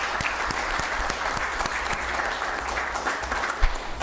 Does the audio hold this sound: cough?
no